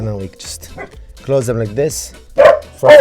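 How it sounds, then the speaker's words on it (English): A dog barks a few short, sharp times indoors in a home kitchen during sun-dried tomato preparation, the yips close and loud and mixed with a person talking. "that's my dog"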